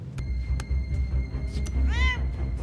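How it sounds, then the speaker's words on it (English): A cat gives a single clear meow near the end, heard close over a low rumbling background with a few sharp clicks. "It's a cat, not Hannibal."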